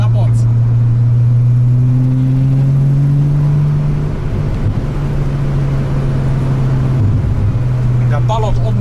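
A VW VR6 car exhaust booming while driving, a loud, steady low engine drone with rising and falling revs throughout and brief crackles near the end.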